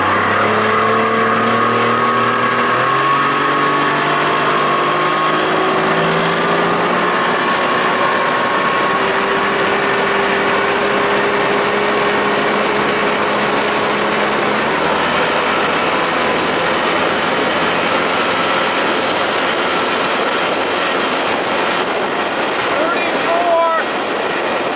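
A 1989 Johnson 25 hp outboard motor with a new prop runs at speed on a lake, a loud, close, sustained whine with slowly shifting pitch over rushing water and wind.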